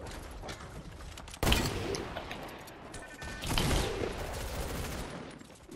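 Shotgun blasts in a first-person shooter game, a sudden loud burst followed by a clattering rattle, then a second swell of shots a couple of seconds later, close and without speech.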